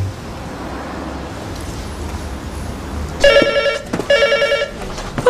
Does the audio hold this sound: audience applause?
no